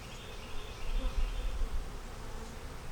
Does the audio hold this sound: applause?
no